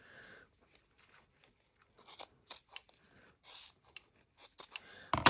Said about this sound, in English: Cut off that seam allowance.